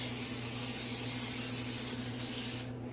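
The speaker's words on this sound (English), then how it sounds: "give my molds just a quick spray with some vegetable oils cooking spray" A continuous aerosol spray of vegetable oil cooking spray onto molds hisses close by for a few seconds, then cuts off.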